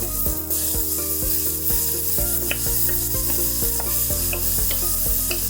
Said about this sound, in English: To this, I will mix last night's leftover vegetables that we made in our house.